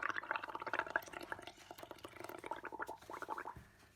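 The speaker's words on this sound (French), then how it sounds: "Allez, vas-y, fais-moi des bulles." Bubbly gurgling of air blown into liquid ink, a steady burbling stream of pops for several seconds that tapers off near the end.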